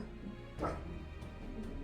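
A pet dog gives a single short bark or yelp, close and moderately loud, against a quiet indoor background.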